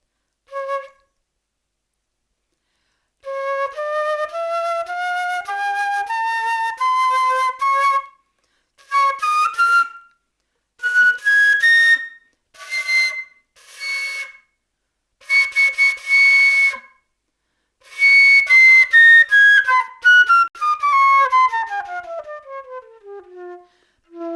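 A cheap eBay wooden flute plays clear, breathy whistling notes, first a long held phrase, then short bursts and a rising run of pitches, loud and close with pauses between phrases and no speech.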